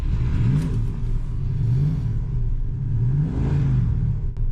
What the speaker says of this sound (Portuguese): o motor tem um som discreto, mas decidido